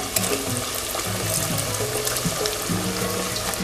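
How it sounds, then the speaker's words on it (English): Green plantain slices for tostones sizzle in oil heated to 350 degrees, a dense, continuous crackling hiss with sharp pops scattered throughout, close and steady. "So this is the first fry, where we're going to fry them for about 2 to 3 minutes"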